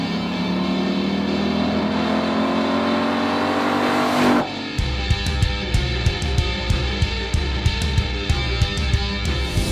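A car engine revs hard under acceleration, its pitch climbing steadily for several seconds before cutting off into a burst of sharp, rhythmic pops and crackles from the exhaust, loud and close.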